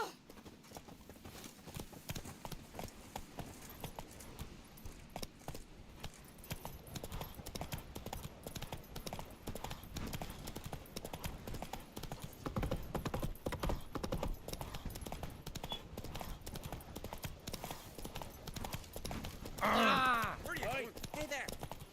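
Horse hooves gallop in The Witcher 3, a steady clip-clop rhythm running throughout at moderate loudness, with someone talking over it.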